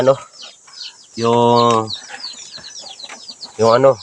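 Red junglefowl clucking in a mountain forest, the calls breaking out in a few loud bursts while someone talks nearby.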